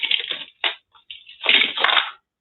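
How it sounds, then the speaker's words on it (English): Small craft beads clattering and skittering across a surface in a few loud bursts with brief gaps, near and sharp, with no talking. "I hear beads going everywhere"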